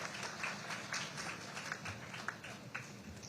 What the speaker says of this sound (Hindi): तो जोरदार तालियां होनी चाहिए एक बार फिर से रावल पुष्प जी के लिए